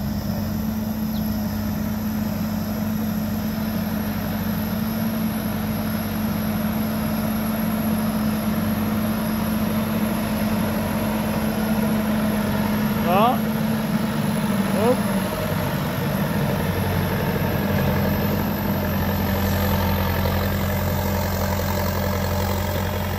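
A tractor drives on top of a silage pile on a farm, its engine humming steadily at a moderate distance throughout, with a steady low drone and brief faint squeaks midway.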